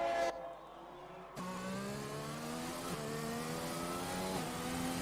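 Racing car engine in a sim racing game revving loudly after a brief quiet gap, with steadily rising pitch through the gears and short dips at each shift, continuous and close.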